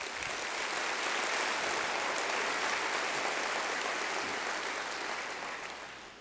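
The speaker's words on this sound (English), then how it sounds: "let's give a huge round of applause to our shelter staff, our rescue groups, our advocates," Broad, sustained applause from a large crowd at a city State of the City address, honoring animal shelter staff, rescue groups and volunteers, a dense wash of clapping that swells, holds steady and then gradually fades out.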